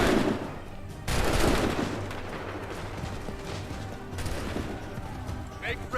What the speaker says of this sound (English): Wait for my signal. Open fire.